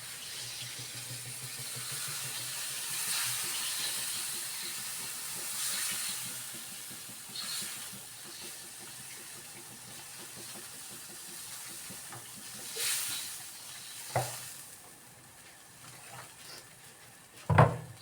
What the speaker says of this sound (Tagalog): pakuluan na natin